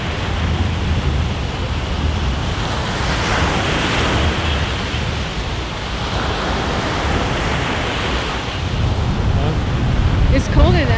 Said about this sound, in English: I had to go to the beach and stick my hand in the Atlantic Ocean